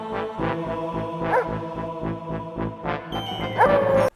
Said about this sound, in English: Oh, doggy!